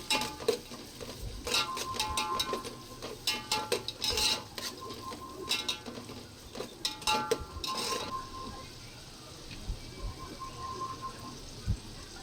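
Metal utensil scrapes and clanks against a pan while crushed ginger and garlic sizzle softly underneath, with irregular stirring bursts and brief quiet gaps.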